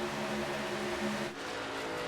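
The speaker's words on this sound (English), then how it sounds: "I hear a truck way out of gear up the road" Racing truck engine at Daytona in an AREA Truck Series race, droning steadily out of gear as one continuous loud tone with a brief dip near the end.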